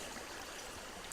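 Steady rushing flow of water in an underground rat-infested area of a video game, a constant faint wash with no breaks or voices.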